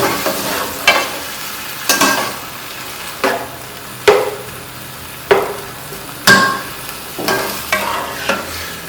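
Chickpea pulao ingredients sautéing in a pot, with boiled chickpeas and whole spices, giving a low steady sizzle punctuated by about a dozen sharp spoon scrapes and clanks against the pot at irregular intervals, close and without talk.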